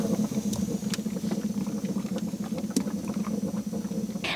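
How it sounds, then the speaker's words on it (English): Coolant in an overheated car engine boils on a hot day, a steady close bubbling and crackling patter with scattered pops, continuous and alone without talk. "my car overheat, and you can hear a little bit like bubbles, not bubbles, it's like boiling"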